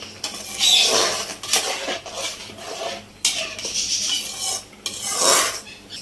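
A utensil stirs ground tomato chutney loosened with water in a pan, giving repeated scraping and clinking strokes in uneven bursts, close and clear with no talking.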